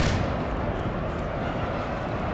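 Massed infantry musket fire in a Napoleonic battle in Napoleon: Total War, a dense, continuous crackling roar of many shots blending into one steady wall of noise, loud and close with no talk.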